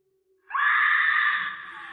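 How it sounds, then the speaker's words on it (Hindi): A woman's single long, high-pitched scream in a horror story, starting suddenly after a brief near-silence and holding loud and close before tailing off slightly. "मानसी चीख पड़ी।"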